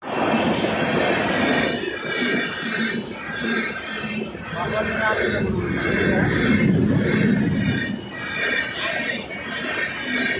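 A train rumbles past with a steady loud clatter and rolling noise, with a few higher squeals and a faint background voice.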